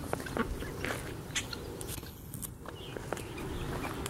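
Birds quacking and calling outdoors amid steady background noise, a few short calls standing out over a scuffing, rustling ambience.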